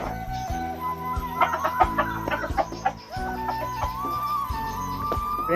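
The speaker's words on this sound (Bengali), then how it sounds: "আমার যে নতুন মুরগিগুলো এনেছি" Newly bought chickens in a farm coop at dusk cluck close by, with overlapping, busy bursts of fowl calls and a faint crow. No one speaks.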